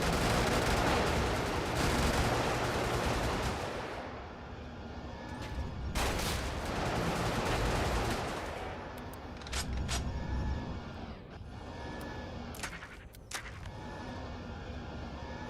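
Heavy, sustained gunfire fills the Brigador mech battle, a dense roar of rapid shots and blasts that swells and dips in waves, loud and close throughout with no voices.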